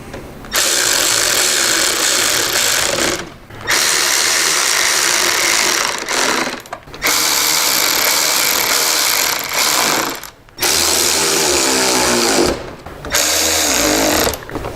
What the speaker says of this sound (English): Get our bottom wing bolts started. Go ahead and run these in.